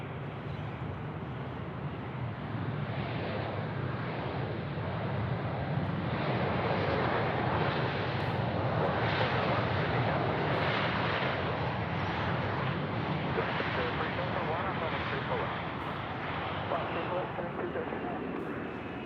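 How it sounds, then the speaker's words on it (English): An All Nippon Airways jet departing Sydney Airport, a loud sustained engine roar that swells and holds across the whole stretch, heard from a distance with a voice talking over it. "it looks like we're going to get out All Nippon Airways 879"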